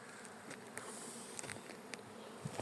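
A dense, steady buzzing of many honeybees flying around a hive, close by and continuous, with a few louder passes rising briefly above the drone.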